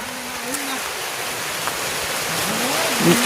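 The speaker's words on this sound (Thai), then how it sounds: "ฝนตกพี่น้องเอ้ย" Steady rain pours down outdoors as a dense, even hiss throughout, with a faint voice briefly audible underneath.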